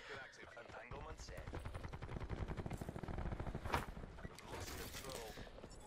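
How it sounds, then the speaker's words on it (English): Dual Saug submachine guns firing in Black Ops 4, rapid continuous automatic bursts with dense rattling shots running nearly the whole time, under quiet talk. "The dual SAUGS are so OP."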